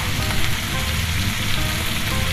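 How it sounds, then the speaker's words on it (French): Loud, steady sizzling of veal searing in a hot pan, a dense crackling hiss with no talking. "Et je vais les colorer sur toutes les faces."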